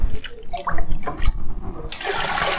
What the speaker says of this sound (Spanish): Para agregarle un poquito de agua